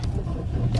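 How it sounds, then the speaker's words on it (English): A car engine turning over and running in a short, loud burst of steady low rumble close by, heard alone with no voices. "So that's the sound of a car"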